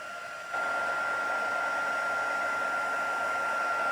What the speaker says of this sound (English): So excuse the noise when we go with the heat embossing again.